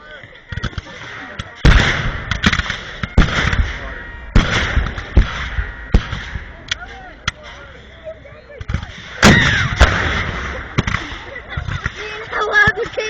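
Cannon fire at Pilot Knob booms out in a series of heavy, irregularly spaced blasts, each a sharp thump with a rolling tail, moderately distant and loud, with people talking between shots.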